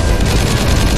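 Gunfire in the video game Metal Gear Solid: Peace Walker, a dense, continuous burst of rapid shots filling the whole second at steady loudness with no talk.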